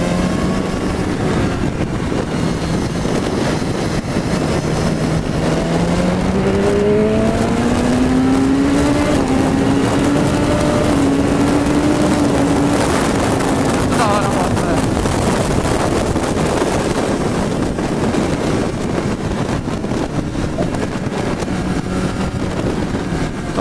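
A BMW S1000RR sport motorcycle engine drones continuously while riding, rising and falling in pitch as it shifts gears through a curve, with heavy wind rush throughout.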